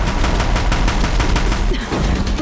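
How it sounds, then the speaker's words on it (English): Deathbringer war machines pounding a bridge with heavy rapid fire in Horizon Zero Dawn, a loud, dense barrage of repeated shots and impacts rolling on without pause. "If the Deathbringers keep firing, this bridge will go."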